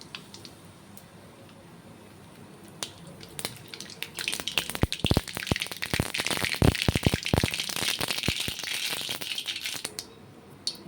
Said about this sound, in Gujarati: તેમાં અડધી ચમચી રાઈ,